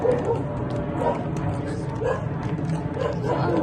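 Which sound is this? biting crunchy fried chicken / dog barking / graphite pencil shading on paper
dog barking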